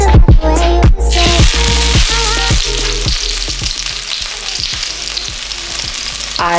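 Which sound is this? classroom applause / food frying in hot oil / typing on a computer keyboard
food frying in hot oil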